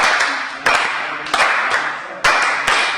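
Hand claps ring out in the clave rhythm, a pattern of sharp, fairly close slaps with uneven spacing that repeats across the phrase, played by a group learning the beat.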